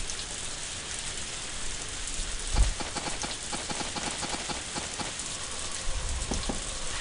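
Steady rain in the farming video game Harvest Moon, a constant hiss of falling drops with a few soft thuds and light rhythmic tapping over it.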